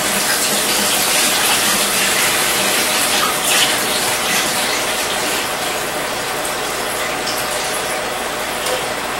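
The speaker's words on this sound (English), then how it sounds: "I'm going to go ahead and drain the water from the rice" Water running steadily and draining out of overnight-soaked rice, a loud continuous gushing splash close by with no voices.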